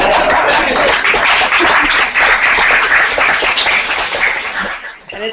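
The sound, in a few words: audience applause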